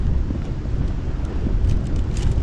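Strong wind buffets the microphone while fishing from a boat on the Oka river, a steady, loud low rumble with gusty rustling throughout and no talk.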